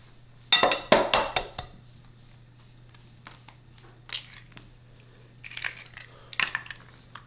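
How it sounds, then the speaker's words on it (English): Two eggs being cracked into a bowl of cookie dough for keto almond cookies: a series of sharp close taps and clicks against the bowl's rim, a few quick knocks in clusters with quiet gaps between them and a faint steady hum underneath. "I'm going to throw in 2 eggs"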